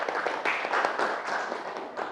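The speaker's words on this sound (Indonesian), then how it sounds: "Yang kuat tepuk tangannya." Students in a classroom clap for a group that has just answered a question, a moderately loud patter of hand claps with uneven bursts, fairly close and steady throughout.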